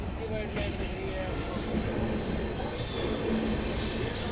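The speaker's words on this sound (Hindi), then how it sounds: "अब जो ट्रेन यहाँ पहले पहुंची है उसी में कुछ हुआ होगा।" A passenger train on the Rajasthan Sampark Kranti Express route, hauled by a WDP-4B diesel locomotive, stands at a station. A loud, continuous rail rumble is heard with a faint wheel squeal and voices mixed into the steady background.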